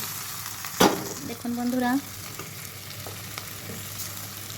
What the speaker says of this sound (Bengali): আমি আলু আর এই পনিরগুলি আমি সব কষিয়ে নিয়েছি